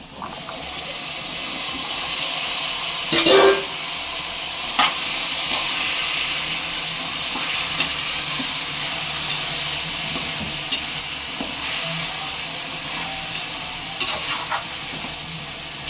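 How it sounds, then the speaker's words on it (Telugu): Washed broad beans go into a pan of cooked onion and tomato, giving a steady sizzle with occasional clinks and scraping stirs, close and fairly loud. "ఇప్పుడు నీట్గా కడిగి పెట్టుకున్న చిక్కుడుకాయలను అయితే వేసుకుని మగ్గించుకుందాము."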